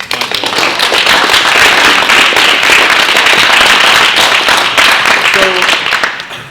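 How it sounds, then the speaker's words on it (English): Loud audience applause fills a talk venue, a dense, sustained wash of many hands clapping close by that swells and holds for several seconds before tapering off at the end. "One more round of applause."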